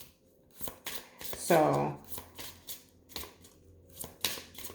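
Tarot cards are shuffled in a series of short riffling bursts, with one longer ruffling pass; a voice speaks briefly nearby.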